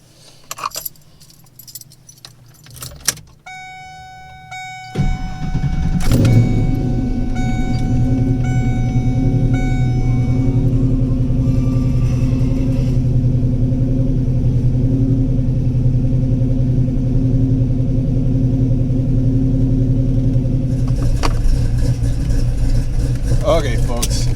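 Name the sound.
cammed Ford Foxbody Mustang 5.0 V8 starting and lumpy cold idle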